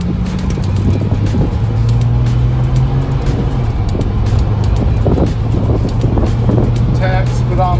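A 1988 Jeep YJ 4X4 with an automatic transmission drives along, its engine droning steadily with road rumble and wind noise close by, while someone talks over it.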